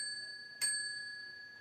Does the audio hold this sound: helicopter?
no